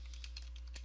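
Light, quick keystrokes tap on a computer keyboard, a short faint burst of clicks over a low steady hum.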